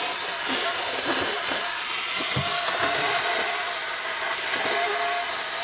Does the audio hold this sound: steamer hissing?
yes